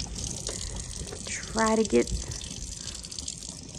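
Water runs steadily from a tap into a sink during handwashing, a continuous close hiss throughout, with a voice speaking briefly over it.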